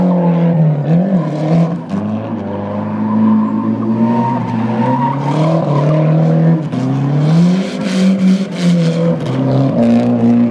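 A drift-style race car's engine roars and wails as its tires skid and scrub through a bye lap, long sweeping revs rising and falling with harsh squealing bursts over several passes.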